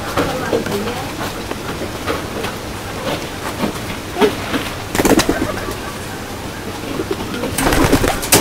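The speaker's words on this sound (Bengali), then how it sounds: "এদিক দিয়ে এই যে কবুতর দেখেন কিরকম শুরু করেছে" Pigeons cooing near a village house in Bangladesh, soft repeated coos amid rustling and clatter, with occasional voices and a rumbling background noise.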